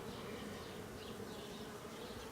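Honey bees buzz in a dense, continuous drone during a hive inspection, close and steady with no voices.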